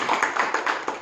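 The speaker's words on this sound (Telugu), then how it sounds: "Clap, hand clap." Hand claps in a quick, uneven series of about six sharp, close, fairly loud claps over roughly one second, with no voice.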